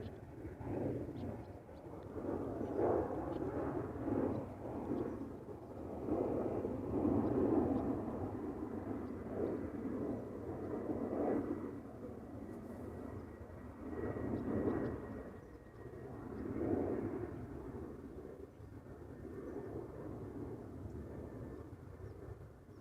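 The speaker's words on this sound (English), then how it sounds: "Now seeing something take off" A passenger airplane takes off at Amsterdam Schiphol Airport, a distant, broad engine roar that swells and fades in several long waves over the whole stretch, steady and fairly faint, with no talking.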